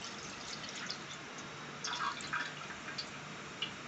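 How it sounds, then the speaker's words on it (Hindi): About a cup of cooking oil is poured into a cooking pot for mutton keema macaroni, making a faint, continuous trickling pour with small splashy glugs and no voices. "अब देचके में शामिल करते हैं 1 कप के करीब ऑयल।"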